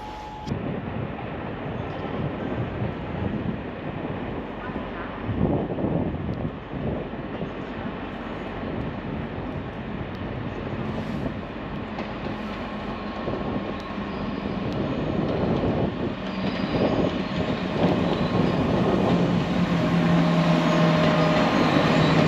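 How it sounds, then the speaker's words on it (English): A pink Ouigo low-cost train sits at a station platform, its steady rumble and hiss forming a continuous loud bed of noise that swells slightly toward the end, with no talk over it. "Here we are next to the pink train. This is the cheap Ouigo."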